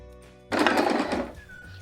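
A sewing machine stitching buckram into a salwar cuff runs in one loud burst of about three quarters of a second, preceded and followed by quieter room tone.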